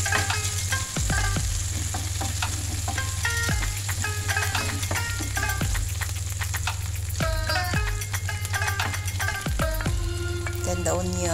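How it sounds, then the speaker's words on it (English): Garlic sautés in a hot pan for a chicken stew, giving a loud continuous sizzle with repeated clinks and scrapes of stirring, close up and without speech. "First, the garlic. Saute the garlic."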